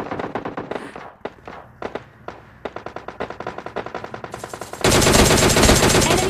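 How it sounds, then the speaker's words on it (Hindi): Gunfire in a shooting video game rattles out in rapid bursts of sharp, close shots. It ends in a denser, louder stretch of continuous fire. "मतलब इतनी दूर से आप अब गोलियां चलाओगे पीक पीक मार के।"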